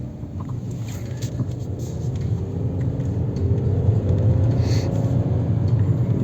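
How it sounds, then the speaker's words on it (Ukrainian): A 2008 VW Golf V with a 1.6 MPI petrol/gas engine and AISIN torque-converter automatic gearbox, heard from inside as a steady low engine and road rumble that swells gradually while driving, with no clear shift jolts. "покажу, як працює коробка автомат"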